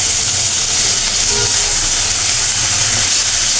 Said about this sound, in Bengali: তেল গরম হয়ে গেছে, দিয়ে দেবো মাছগুলো